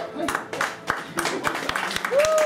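Scattered hand claps from a small group at a tournament gathering, sharp separate slaps over a murmuring room with a faint tone near the end.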